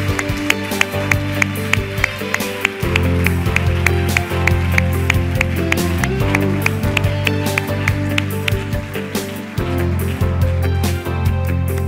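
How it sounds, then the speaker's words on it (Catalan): Applause for award recipient Consol Sáez, director of a radio programme, at the Ràdio Associació 2017 awards ceremony, with a steady run of clapping mixed with background music at close range. "Un aplaudiment."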